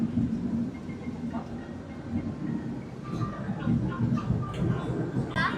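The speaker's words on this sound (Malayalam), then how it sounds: "ഇതാണ് നമ്മൾ പോകുന്നത്. ഇതാണ് പാം പീക്ക് ട്രെയിൻ." Hong Kong's Peak Tram climbing toward the summit rumbles with a steady low mechanical drone and faint rattles, heard from on board with a passenger murmur beneath.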